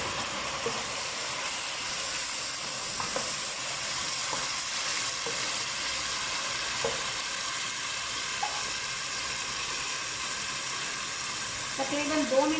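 Green chillies and tomato puree fry in a pan for a chatpata pulao, giving a loud, steady sizzle with occasional stirring scrapes while a voice talks over it.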